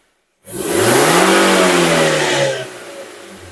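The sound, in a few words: car engine revving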